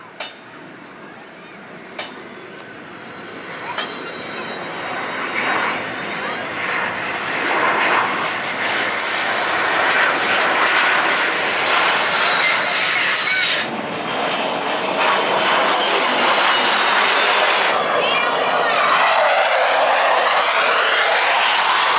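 Military aircraft flying over during an Indian Air Force Day air show above Raj Nagar Extension, Ghaziabad, heard from a balcony: a broad, roaring jet engine sound that builds and holds loud for over twenty seconds, with a few faint knocks early on.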